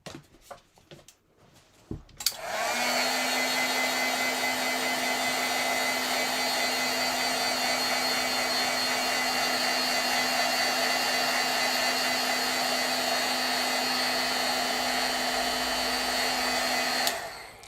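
A heat tool blows steadily for about fifteen seconds, setting stamped paint on a card. It is a loud, close, continuous whir with a constant hum, starting abruptly after a few soft handling noises and then cutting off.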